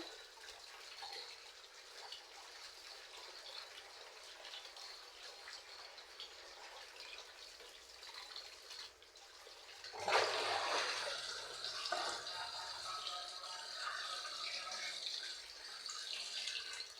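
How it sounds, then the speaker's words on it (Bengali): Small fish washed in a strainer under a running kitchen tap: a quiet background hum gives way midway to a louder, steady rush of splashing water that continues to the end. "এখন জালিতে নিয়ে আমি কলের নিচে ভালোভাবে ধুয়ে নেব মাছটা।"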